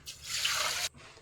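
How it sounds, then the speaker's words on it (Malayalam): Water poured from a vessel into a pot of horse gram, a steady close splashing pour lasting under a second that stops abruptly, leaving faint room noise. "വെള്ളം ഒഴിച്ച് കൊടുക്കാം."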